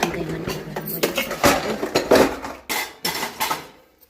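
Dishes and cutlery clatter and clink close by as they are handled and set down, with a few sharp knocks and a soft voice underneath.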